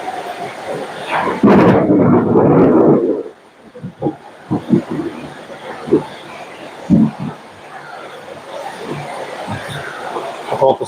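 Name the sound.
thunder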